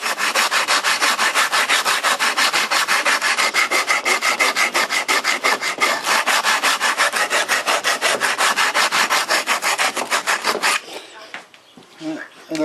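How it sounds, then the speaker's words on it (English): Hand sanding of a wooden gun rack piece clamped in a vise produces a fast, steady rasping scrape in rapid even strokes for about ten seconds, close and loud, before it stops and a few light handling noises follow. "Now I'm going to put it in a vise. So it just lets me sand it up in there real nice."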